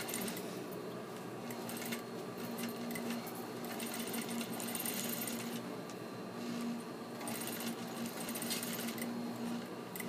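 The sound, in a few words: sewing machine sewing a stay stitch on fabric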